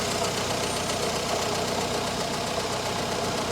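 A Morris Minor engine idles on a stand during carburettor tuning, a steady low rumble with a faint rhythmic knock, continuous and close throughout.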